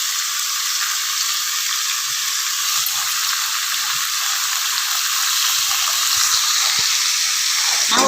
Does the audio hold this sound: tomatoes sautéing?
yes